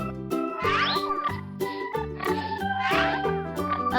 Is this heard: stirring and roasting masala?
no